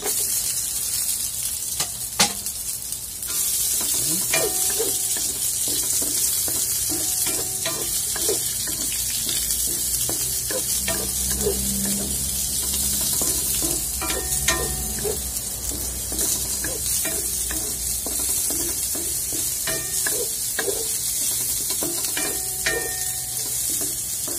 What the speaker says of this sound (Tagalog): Batiin guys yung sibuyas.